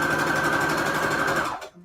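Sewing machine stitching shabby chic fabric onto receipt paper, a fast steady whirring run at close range that stops abruptly near the end.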